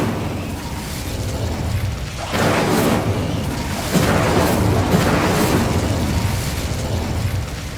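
An Incendio fire spell cast in a Harry Potter video game: a loud, sustained roaring burst of fire that swells in several rushing waves over the whole stretch, with no voices.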